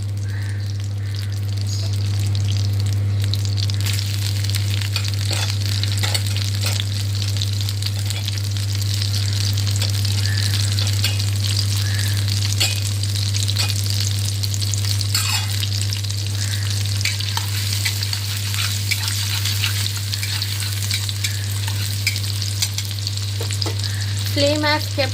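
Onion slices frying hard in a pan over a high flame for bread pizza, a steady loud sizzle with scattered crackles and occasional utensil clinks, alone with no talk.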